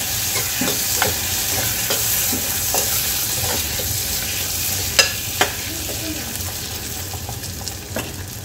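Washed field beans sautéed directly in a pressure cooker, with a steady broadband sizzle and scattered sharp clicks from stirring, two louder scrapes standing out midway, no talking.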